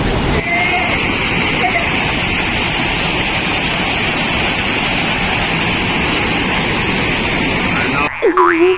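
A constant roaring rush of falling water at Hogenakkal Falls fills the scene, loud and unbroken, before cutting off abruptly near the end.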